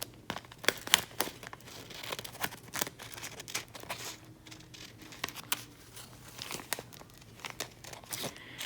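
Close, crisp paper crinkling and snipping sounds come in irregular bursts as scissors cut a paper circle, with no talking.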